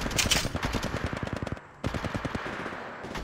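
Automatic gunfire in the video game Apex Legends, rapid rhythmic bursts of close shots with a brief pause before firing resumes.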